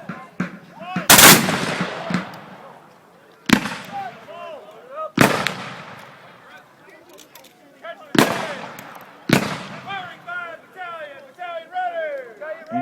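Civil War reenactment troops, Confederate and Federal lines, fire massive musket volleys at an outdoor Memorial Day event: five sharp, loud gunshot bursts spaced a few seconds apart, each with a ringing tail, while birds chirp in the background.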